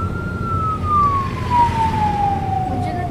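An ambulance siren sounds as a single steady wail that slowly falls in pitch as it passes on the road, loud and clear over low traffic rumble.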